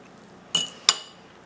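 A utensil taps sharply twice against a bowl while guacamole is mixed. The two bright clinks are close together and loud, with a quiet background and no talking.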